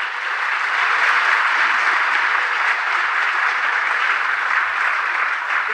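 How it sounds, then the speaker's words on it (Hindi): Sustained applause from a crowd at a large spiritual gathering, welcoming a revered saint; dense, steady clapping fills the whole span at an even level, with no talk over it. "इनके स्वागत में और जोर से ताली मारे।"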